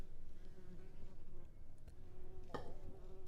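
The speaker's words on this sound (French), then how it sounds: "L'abeille." A bee buzzes in a steady, droning hum with slight wavering pitch, fairly close and alone, with a brief sharper burst partway through.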